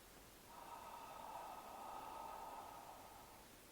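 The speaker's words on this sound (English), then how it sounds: "a very simple approach to the whispered ah" A whispered "ah" vocal exercise: a steady breathy hiss of air that starts after half a second and holds for about two and a half seconds before fading, soft and alone with no other sound.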